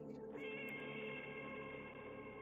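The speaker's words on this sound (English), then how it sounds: "Oh, and cats meowing." Cats meowing in the Turnip Boy Robs a Bank video game, a steady layered mewing over game music and ambience, loud and continuous with no talking.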